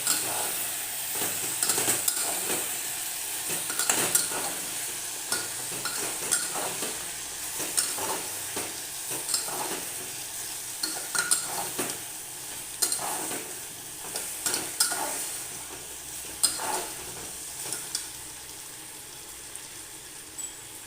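A spoon repeatedly scrapes and stirs a ground spice paste frying in a pan, soft sizzling under irregular clanking strokes, close by and steady throughout.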